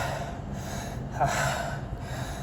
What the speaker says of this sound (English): Look at my breathing.